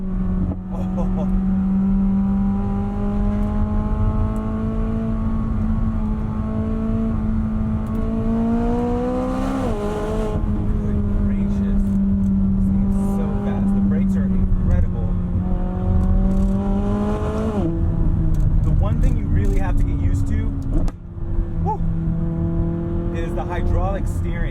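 A 2020 McLaren 600LT Spider engine drones steadily as the convertible heads downhill into a corner, pitch climbing then dropping with gear changes into second, loud and continuous under someone talking.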